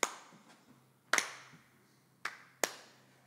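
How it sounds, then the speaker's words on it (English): Four separate, widely spaced hand claps ring out alone in a quiet room at a live music stream, each a sharp, close smack followed by a short decay, in a slow, deliberate rhythm. "Just everyone slow clap when we finish."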